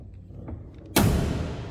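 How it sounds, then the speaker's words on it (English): A 1966 Dodge Polara four-door sedan's door swings shut with a single solid, loud thud after a few faint mechanical clicks, followed by a brief fading rumble. "Listen to that door close."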